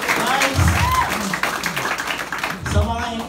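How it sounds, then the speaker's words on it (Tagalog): Audience applause at an Aim Global head office event: moderate clapping rises and fades in short bursts, partly under someone speaking. "Yan, palakpak naman dyan."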